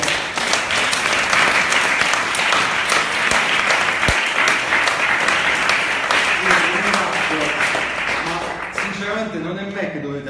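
Sustained audience applause fills a tech presentation hall, steady dense clapping that fades slightly near the end as a speaker begins talking over it.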